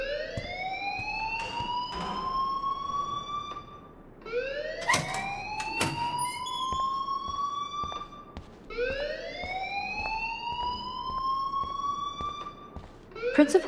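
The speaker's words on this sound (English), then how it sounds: "please turn off that alarm since that's your job" A rising, wailing electronic alarm blares in a school building in the video game Life is Strange, sweeping upward in three repeated cycles of about four seconds each, loud and steady over faint background sounds.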